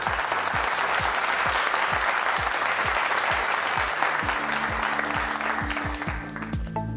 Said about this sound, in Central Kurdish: کوا چەپڵەکانتان